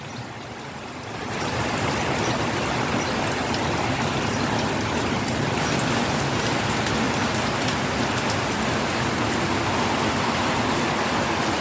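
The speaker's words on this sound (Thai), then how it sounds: "ฝนตกเย็นขึ้นจ้ะนี่" Steady, dense rain pours onto a home vegetable garden, a constant hiss that swells after the first second and then holds evenly, close and loud with no talking.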